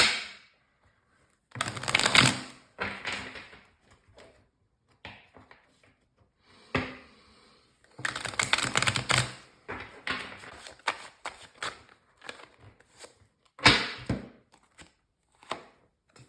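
Tarot cards pulled and handled, sliding and shuffling in several bursts of crisp papery rustling and soft slaps, separated by short quiet gaps.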